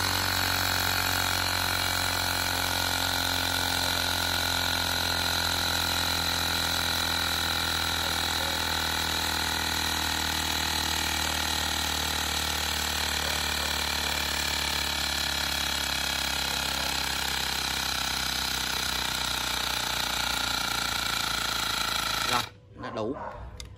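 A Ryobi P737 18V cordless air inflator pumps up a motorbike tyre, its steady mechanical drone running loud and unbroken for about twenty-two seconds before cutting off abruptly near the end.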